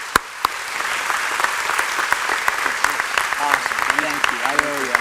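A commencement audience at BC3 claps for Dr. White, a dense, steady round of applause filling the hall, with voices speaking over it toward the end.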